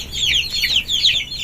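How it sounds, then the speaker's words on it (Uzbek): A flock of 20-day-old chicks peeping and clucking continuously, a dense chorus of high chirps close by with no talk. "Mana o'rtoqlar 20 kunlik jo'jalar."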